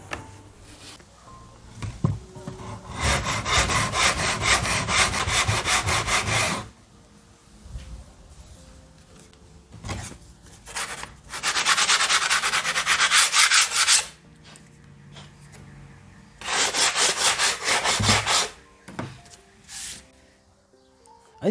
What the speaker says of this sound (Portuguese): E agora essa parte aqui é só passar a lixa.